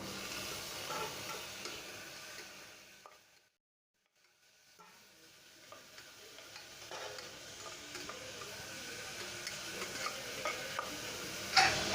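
Chopped medium tomato goes into a pan of well-sautéed onions, giving a soft sizzle and frying hiss with spoon stirring and scraping; the sound drops out briefly, then returns and builds to a brisker crackle, close and alone.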